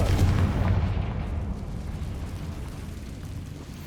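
A Confringo spell blast in Hogwarts Legacy lands as a loud rumbling boom at the start, then rolls off into a long fading roar with no talking over it.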